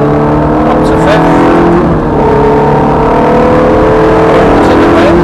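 Ferrari F430 engine accelerating hard around Thruxton race circuit, a loud sustained in-car roar with rising revs and gear changes through the whole stretch, with a voice talking over it.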